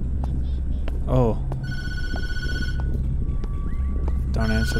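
In a horror video game, an old telephone bell rings in short repeated bursts, loud and close, over a bed of eerie ambient drones and scattered game effects.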